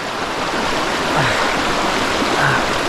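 River water flows steadily nearby, a broad continuous rushing wash with faint murmurs, close and even throughout, no talk heard.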